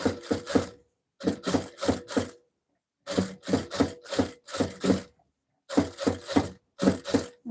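A sewing machine stitches over the seams of a blouse in repeated short rapid bursts, each run of needle strokes separated by brief pauses, close and fairly loud with no talking.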